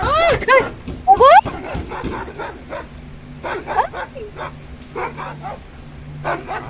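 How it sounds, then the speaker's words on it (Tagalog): A dog barks and yips in several sharp, loud bursts close by, interleaved with people chatting casually. "Aso lang naman eh. Aso lang."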